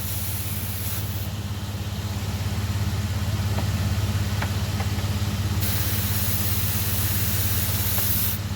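Refrigerant mist hissing steadily from a car AC system with a weak compressor, a loud continuous spray over the low rumble of the idling engine, close by.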